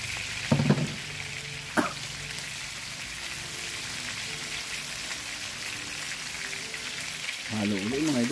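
Onions and garlic sauté in a pan with a steady close sizzle and crackle, a couple of sharp utensil clinks early on, and a voice speaking briefly near the end.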